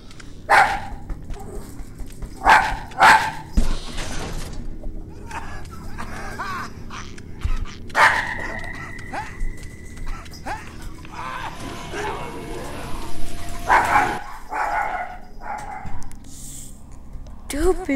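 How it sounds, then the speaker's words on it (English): Dog barking in the Saw video game, sharp repeated barks in uneven bursts mixed with whines, heard under a player's talking and game ambience. "Stupid dog. Going crazy"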